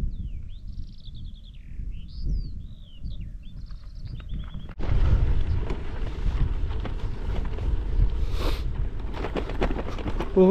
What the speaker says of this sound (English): But listen to that wind.